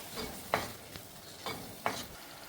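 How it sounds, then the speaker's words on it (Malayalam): Ground medium-sized tomato paste being sautéed in a pan for Kerala vendakka (okra) curry: a soft, continuous sizzle broken by several sharp scrapes of a spoon against the pan at irregular intervals. "ചെറിയത് പറഞ്ഞ ഒരു മീഡിയം സൈസ് തക്കാളി അരച്ചെടുത്താണ്, അത് നന്നായിട്ട് വഴറ്റെടുക്കണം"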